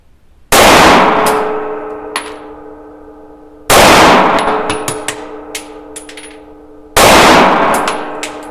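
Three loud metallic clangs ring out as Luger Parabellum pistol shots strike steel targets, each impact leaving a long, shimmering ring that fades over a few seconds, with faint smaller pings in between.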